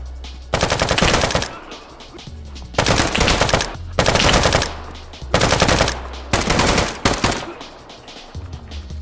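Repeated bursts of automatic gunfire from the video game Deadside, several long rattling volleys separated by short pauses, loud and close with low background rumble between them.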